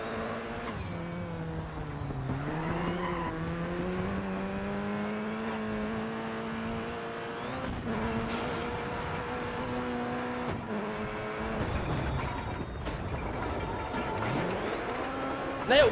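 A Subaru Impreza WRC2001 rally car in the DiRT 4 video game, driving on a punctured tyre. The engine drones steadily with its pitch rising and falling through revs and gear changes, ending in a brief louder burst.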